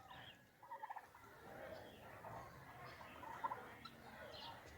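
Turkeys gobbling and calling at morning feeding time on a ranch, a mix of several nearby birds with busy overlapping calls and a few louder bursts over steady background activity.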